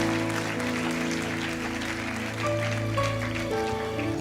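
Applause from a church congregation during a French-language sermon, a steady dense wash of clapping that holds at an even level over a sustained musical tone, with no one speaking.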